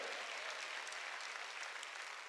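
Brief, even clapping from a church congregation carries as a soft but continuous patter, fairly distant and with no voice on top.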